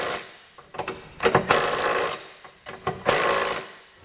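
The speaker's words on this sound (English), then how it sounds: "Then we can tighten these up with the 9/16." A 9/16 wrench tightens the U-bolt nuts on a Curt trailer hitch receiver for a 2009 Honda Accord, making bursts of rapid ratcheting clicks in short repeated strokes with pauses between them, close and fairly loud.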